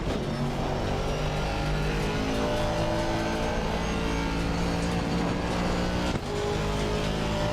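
Race car in Assetto Corsa Competizione, its engine blaring loud and steady with shifting pitch and a brief gear-change dip near the end, with no talk.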